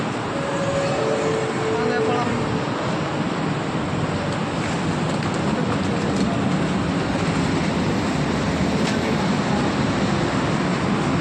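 Steady rushing noise of an airport express train in motion in Malaysia, a constant loud rumble and hiss heard from inside a carriage, with faint talk underneath.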